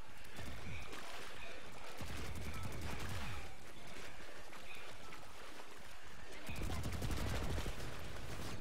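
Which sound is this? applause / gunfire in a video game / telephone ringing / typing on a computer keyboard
gunfire in a video game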